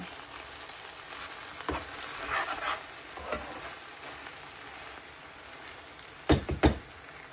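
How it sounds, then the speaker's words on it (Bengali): Noodles cook in a home kitchen pan with a steady soft sizzle, broken by a few sharp stirring clinks and scrapes, loudest near the end. "একটু নুডলস রান্না করছি আর চা করব"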